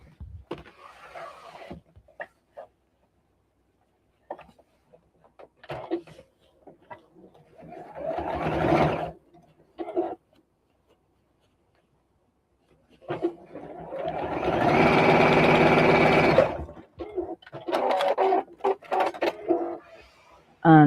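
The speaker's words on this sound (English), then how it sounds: "pull the two sides of the turning gap apart, and the edges should just roll in nicely and sew straight across" A sewing machine stitching jersey fabric across the turning gap of a tote bag, short intermittent whirring bursts with one longer run of stitching, near and clear, between quiet gaps.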